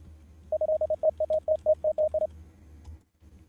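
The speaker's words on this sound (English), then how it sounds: "Morse code." A Morse-code keyboard sound theme in the video game Hydroneer gives a quick series of about fifteen short, clear beeps of one pitch in an uneven rhythm, then stops, with no talk.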